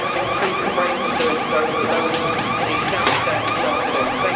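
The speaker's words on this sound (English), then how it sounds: "Is that the fire alarm?" A building fire alarm rings loudly and continuously, a harsh electronic tone that holds steady without a break and with no voices over it.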